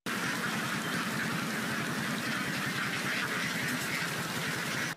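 A flock of ducks in Vietnam runs along together, producing a dense, continuous chatter of overlapping quacks mixed with rushing background noise at a steady loudness.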